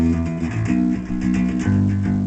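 Bass guitar plays the verse line of a song, a short run of plucked, sustained low notes moving between a few pitches, close and alone.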